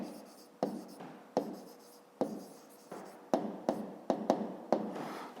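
Pen writing by hand on paper while working a fifth-grade maths exercise, a steady scratching broken by sharp taps and strokes roughly every half second, close and fairly quiet with no talking.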